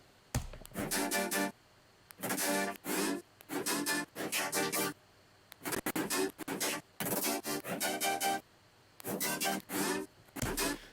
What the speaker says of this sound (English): let's play this synth back so we can take a listen